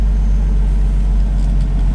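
A turbocharged BMW E46 328i running with a new exhaust system, a loud, close, steady low-pitched engine drone with a deep rumble and no change in pitch.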